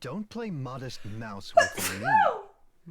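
A single sharp sneeze bursts out right after someone speaks, close and loud.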